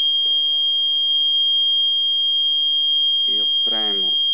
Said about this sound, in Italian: Qua andate in allarme, ovviamente.